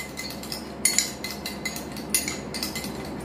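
A spoon stirs a coconut oil face remedy in a small bowl, giving light irregular clinks and scrapes against the dish, close and fairly soft, with no talking.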